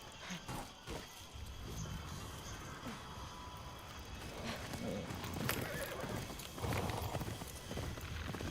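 A horse gallops in the video game Ghost of Yotei, with a steady clip-clop of hooves and a neigh over continuous outdoor wind and game ambience, with no talking.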